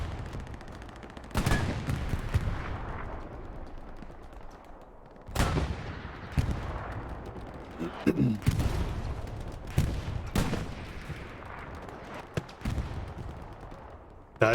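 Machine gun fire crackles in a Hell Let Loose match, with sharp bursts and single heavy shots spread through the clip amid distant battlefield rumble, at moderate loudness.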